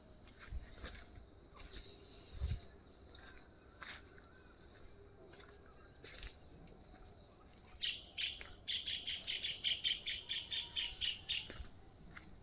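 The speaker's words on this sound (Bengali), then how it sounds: "পাখির কিচিরমিচির শব্দে চারিদিকে মুখরিত।" Birds chirp around a rural village at dawn: scattered faint calls at first, then a rapid run of bright, repeated chirps near the end, fairly distant and with no voices.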